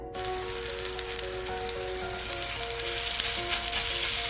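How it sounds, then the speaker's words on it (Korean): Oil sizzling in a heated frying pan, a close, steady crackling hiss that grows slightly louder over a few seconds, with no voices. "달궈진 후라이팬에 기름을 넣고요"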